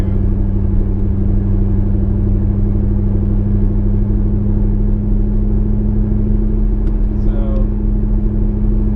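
A car engine drones steadily from inside the cabin on a test drive after extensive rebuild work, held at gentle half throttle while a new clutch breaks in; the low, even rumble never rises into hard revving.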